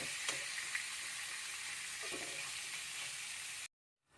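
Sliced onion frying in a pan until brown, a steady close sizzle with a few faint pops, heard alone before cutting to silence.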